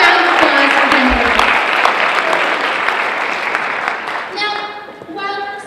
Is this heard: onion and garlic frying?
no